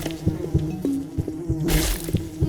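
Insect-like buzzing from bees in a Roblox horror game, a steady droning hum with repeating low pulses and a brighter hiss swelling near the end, with no talk over it.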